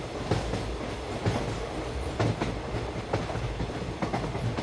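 Interior of a moving train: a steady loud rumble of wheels on rails with rhythmic clickety-clack beats recurring through the whole passage, close and continuous with no voices.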